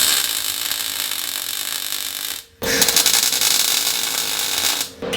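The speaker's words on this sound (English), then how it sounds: "using these vice grips, butt up against the jack, and then I'm jacking the whole thing up to the right point." A jack lifts a custom engine cradle for a Subaru EZ30R-swapped Porsche, loud repeated ratcheting and grinding mechanical strokes with two short pauses between pumps, close and without talk.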